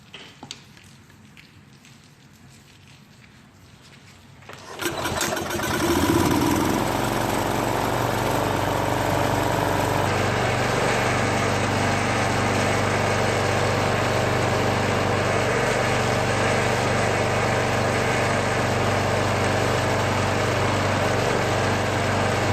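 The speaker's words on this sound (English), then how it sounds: "starting the engine up, and hopefully both wheels will spin" A Toro commercial walk-behind self-propelled lawn mower engine starts after a quiet lead-in, then runs steadily and loudly at a constant throttle, close by with no talk.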